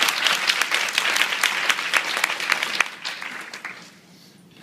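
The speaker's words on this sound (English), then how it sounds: "So give yourselves a round of applause just for the fact that you're sitting in these seats today." A seated audience at a talk claps in a dense burst of applause that thins and fades out over a few seconds.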